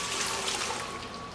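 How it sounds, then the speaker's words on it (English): Wine braising liquid for a rabbit stew, with onions, garlic and bay leaves, poured through a sieve, giving a steady close splashing trickle of liquid throughout. "So what we want to do is take this and pour it through a sieve"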